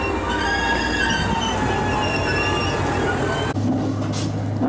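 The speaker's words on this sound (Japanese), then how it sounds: "まもなく一番乗り場に列車が参ります。" A train rumbles in and rolls along a platform at Wadayama Station on the San'in Line, wheels grinding and squealing faintly before the heavy running noise suddenly cuts off near the end.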